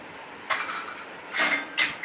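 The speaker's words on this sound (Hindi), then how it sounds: "फिर मैं अब स्टैंड में ये बर्तन सारे लगा रही हूँ" Steel dishes clink and clatter as they are set one after another into a dish rack, with a few sharp metallic knocks over a quiet kitchen background.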